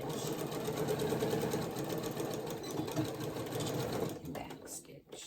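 A sewing machine back stitches a shirt neck band, its steady fast mechanical whir running nearly five seconds, loud and close, then stopping abruptly with a brief quieter tail.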